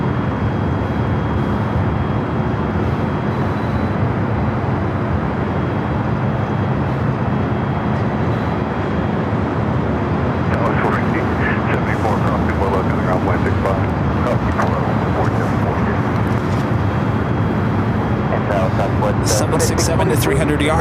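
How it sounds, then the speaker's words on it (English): A Delta Boeing 767-300ER jet arriving on LAX runway 24 left sends a loud, broad engine roar that fills the scene and stays constant. A voice talks over it. "Also have a Delta 767-300ER also heading to 24 left."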